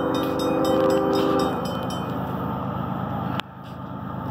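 CSX Q263, a westbound freight train with a red and yellow lease locomotive, passes close by near Traybold Road, milepost 376, as a loud continuous rumble and rhythmic wheel clatter that drops off abruptly near the end, with no voices.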